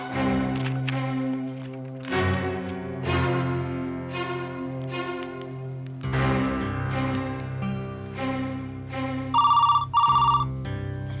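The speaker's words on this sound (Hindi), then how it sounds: "मंजू को फोन करता हूँ।" Telephone ringing on an outgoing call, a repeating melodic ringtone pattern heard clearly and alone, ending in short bursts of a higher electronic ring.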